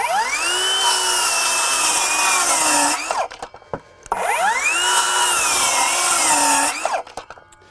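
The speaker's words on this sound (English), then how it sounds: "Not bad for a 18 volt saw" A Metabo HPT 18V MultiVolt 7-1/4" cordless circular saw rips through wood in two loud, close cuts, each a few seconds of high screaming whine that winds down, separated by a short pause.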